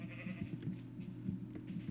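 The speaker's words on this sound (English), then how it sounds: "That's a loud sheep, isn't it?" Blocky sheep in Minecraft bleating repeatedly in short, close, loud calls, several quick wavering cries in a row over a low steady game hum.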